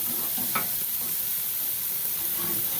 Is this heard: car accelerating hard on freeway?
no